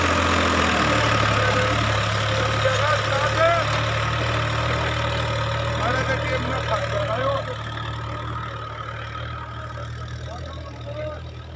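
A New Holland 3630 tractor engine idles with a low, steady rumble that gradually fades a little, while faint voices murmur in the background.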